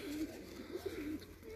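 Lakha pigeons coo softly in a loft, a few low, rolling throaty calls close by against faint background noise over a moment and a half.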